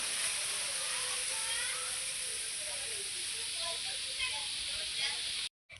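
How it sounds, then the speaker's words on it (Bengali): Strong wind sweeps steadily across a rooftop where washed clothes hang out to dry, making a loud, even rushing hiss with no break. Faint chirps flicker underneath until it cuts off abruptly at the end. "আর কত হাওয়া দিচ্ছে দেখো"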